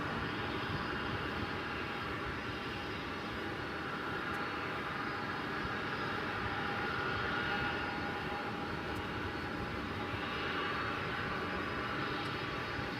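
A Boeing 747 jet departs DFW Airport at night, its engines giving a broad, steady roar from a distance that swells and eases slightly and lasts throughout, with no voices.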